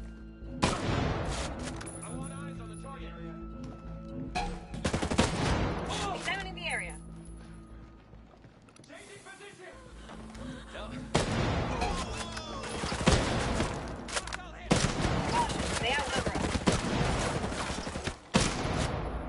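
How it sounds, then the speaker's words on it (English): Ghost Recon Breakpoint gunfire crackles in rapid bursts and volleys, with distant booms and shots mixed under quiet talk and game sounds throughout. "Gunfire in the area."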